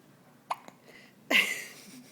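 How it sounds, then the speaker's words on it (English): Two quick hiccups from a person in a quiet room, close and clear, followed by a louder breathy sound trailing off. "How those hiccups treating you?"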